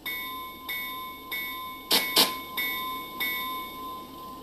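An electronic train bell from a sound, light and motor controller for a live steam riding train, ringing in a steady repeating series of clear metallic dings, close and alone.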